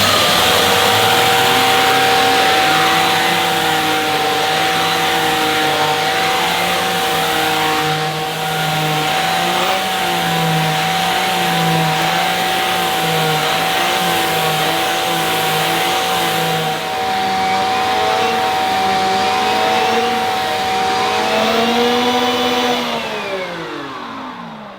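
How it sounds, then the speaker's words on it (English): A Shark CV100UKT bagless cylinder vacuum cleaner runs loudly and continuously with a mini turbo brush picking up pet hair, its steady motor whine wavering slightly as the nozzle is worked, then winding down at the end. "we'll try and remove the rest of the pet hair using this nozzle"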